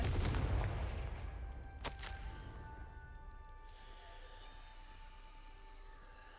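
Confringo fire spell explosion in a Harry Potter video game: a heavy booming blast followed by a sharp crack, then a long rumbling, ringing decay that fades slowly.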